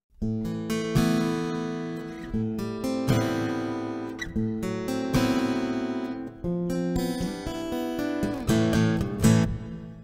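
An acoustic guitar played through an HX Stomp pedal on its Studio acoustic sound plays strummed chords and picked notes with a smooth, reverberant ambience; the notes ring out and overlap, with no talking.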